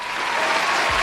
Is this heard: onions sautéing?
no